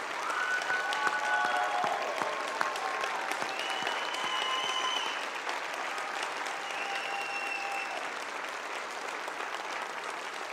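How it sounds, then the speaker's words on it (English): A crowd applauding loudly at a high school marching band showcase, a dense wash of clapping that eases slightly partway through but continues steadily to the end. "I think they deserve a little bit more applause than that."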